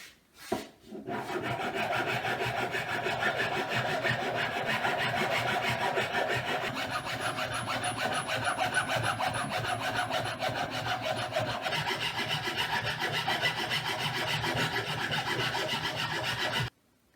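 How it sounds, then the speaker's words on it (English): Continuous rasping strokes of sanding on wood, steady and close, after a short knock at the start, then stopping abruptly. "I have finished sanding down both parts where I'm going to put the blade on"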